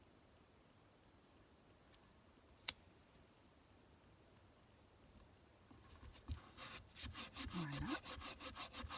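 Blade cutting cleanly through a vintage card, starting as a quiet scrape and building after a few seconds into a loud, close run of rapid rhythmic sawing strokes with a brief sharp click early on.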